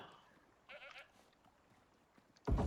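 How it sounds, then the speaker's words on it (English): A goat bleats in the survival video game Icarus, a short bleat in the middle and a louder, closer one at the end, heard alone with no talking. "And I thought I heard a goat"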